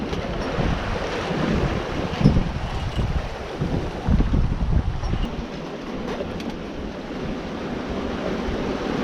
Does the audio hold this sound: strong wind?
yes